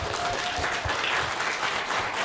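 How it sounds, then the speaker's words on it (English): A crowd at a wrestling reunion convention panel applauds steadily, dense clapping at an even level throughout, with no talking over it. "Yeah, applaud that."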